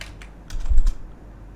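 Typing on a computer keyboard: a short burst of a few light key clicks, close and clear, with one slightly heavier cluster of strokes in the middle and no voices.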